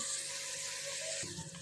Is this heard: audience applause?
no